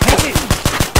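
Rapid bursts of AK rifle fire in the VR shooter Ghosts of Tabor, about seven loud, closely spaced shots with a steady rhythm over roughly a second.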